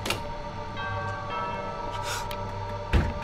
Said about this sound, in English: That's the doorbell, right?